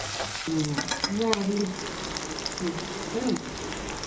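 Onions sauté in sesame oil with curry leaves for a bitter gourd thokku, a steady close sizzle and frying crackle running throughout with a few scrapes of stirring.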